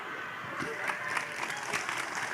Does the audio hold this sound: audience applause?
yes